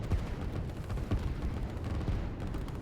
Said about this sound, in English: they are being fired upon by quite a lot of artillery there